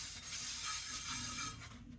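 Leftover grease and gunk being scrubbed off a pan, a steady close rubbing and scouring sound that runs continuously for about two seconds with no voices.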